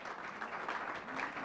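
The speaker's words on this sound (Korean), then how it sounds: "큰 박수 보내주시면서 1세션을" Audience applause closing the first session of a political talk concert, steady and moderately loud across the short stretch with faint voices mixed in.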